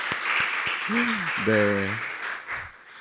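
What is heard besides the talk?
congregation applause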